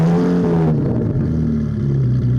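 A C8 Z06 Corvette fitted with a Fabspeed exhaust revs loudly and close, holding a high engine note that abruptly drops to a lower, rougher idle partway through.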